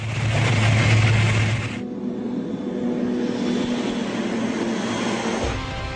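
A small crop duster plane's engine roars loudly up close as it takes off, then settles into a steady buzzing drone as it powers away.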